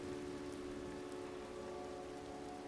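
Steady rain falls on city streets, a constant even hiss with a low hum underneath and no voices.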